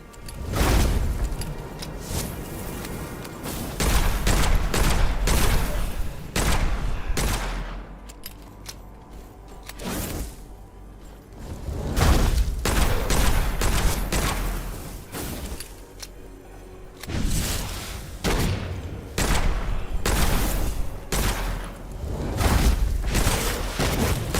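Dense bursts of gunfire in the video game Witchfire, loud rapid volleys and booming shots arrive in repeated waves separated by brief quieter gaps.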